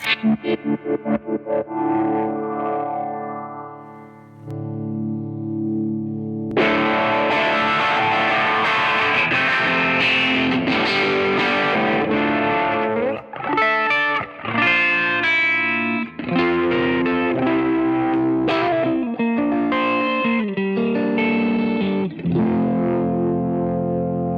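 Electric guitar played through a swirly, phaser-like envelope modulation pedal: a few clean plucked notes, then loud distorted chords and riffs with sweeping, shifting tone and brief gaps between phrases.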